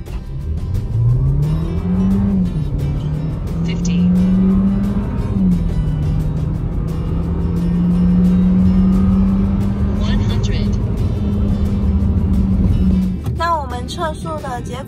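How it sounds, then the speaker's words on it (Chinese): A 2016 Audi A3 Sportback accelerating hard from standstill toward 100 km/h, heard from inside the cabin. The engine drone rises through each gear with brief dips at the shifts and holds loud throughout, while a person talks near the end. "桥上呢做这台奥迪 A3 的加速测试"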